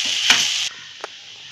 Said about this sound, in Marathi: आणखी 1-2 मिनिट आपण असं थोडा वेळ हलवून घेऊया